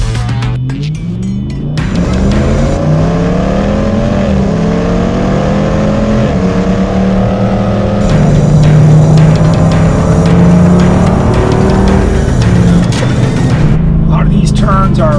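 A Jeep JLU with a Hemi 392 V8 and 40-inch tires drives hard on a winding road. Its engine drones loud and steady throughout, revs rise and fall with gear changes, tire roar sits underneath, and people talk over it.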